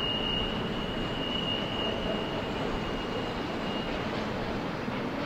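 A freight train rumbles steadily on the Tehachapi Loop in the Tehachapi Pass, a dense continuous roar of rolling cars with a thin, sustained wheel squeal on the curve, loud and unbroken.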